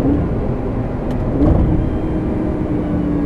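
A Lamborghini Gallardo engine with E-gear transmission rumbles loudly and steadily, with a brief shift in pitch as it downshifts, no voices.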